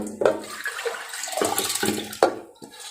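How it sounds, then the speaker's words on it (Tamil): Washed toor dal and water pour into a pot on the stove, giving a sloshing, splashing rush with a few sharper splashes and gurgles. "கழுவி வச்சுருக்க துவரம்பருப்பை இதில் ஊற்றிக்கிறேன்."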